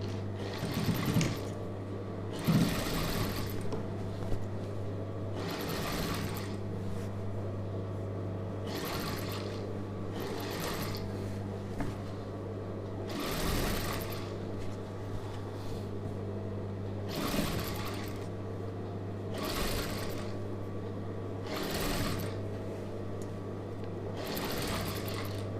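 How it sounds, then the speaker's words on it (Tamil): A sewing machine stitches the neck of a star-neck chudidhar in repeated bursts of rapid mechanical whirring, each a few seconds long with short pauses, over a steady low motor hum. "மிஷினில் தையல் வச்சுக்கலாம்"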